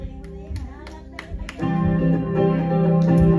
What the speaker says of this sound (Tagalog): Tayo po'y pumalakpak ng may galak, ng may saya, at may tuwa.